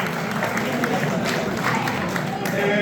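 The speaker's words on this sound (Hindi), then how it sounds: "ताली मार देना" Brief applause from an audience at a prize distribution ceremony in Bradford, a steady patter of clapping lasting under three seconds, with a voice talking over it.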